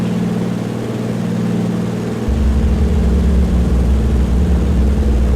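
A propeller aircraft engine drones at full power in a flight simulator game during a steep climbing turn, a loud steady hum that deepens and strengthens midway as power increases, with no talking.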